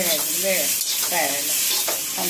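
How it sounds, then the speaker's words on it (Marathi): Onion sizzles in a hot pan with a steady frying hiss, and stirring sounds come and go over it. "कांदा फ्राय झाला"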